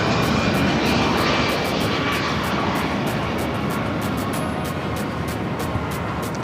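Jet aircraft at LAX airport roar continuously in a loud, steady engine wash that holds for the whole stretch, with no voices over it.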